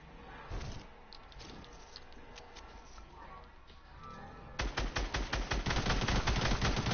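Rapid assault rifle bursts in Fortnite, a loud rattling string of evenly spaced shots that kicks in partway through, after quieter game ambience and scattered thumps.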